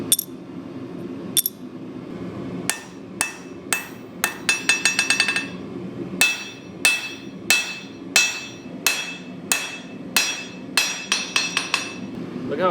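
Hammer blows strike annealed soft copper being shaped into a katana habaki, sharp metallic strikes with ringing tails, some sparse, others in rapid clusters and then a steady beat.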